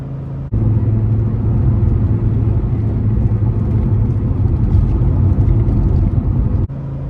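An Audi Ur Quattro MB engine runs loudly and steadily while the car drives, a continuous close, deep rumble with no talk.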